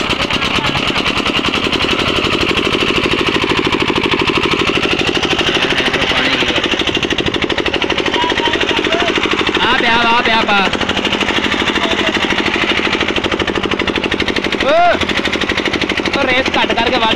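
A tubewell engine on a farm runs steadily after starting, with a loud, continuous, rough mechanical clatter throughout and brief voices over it.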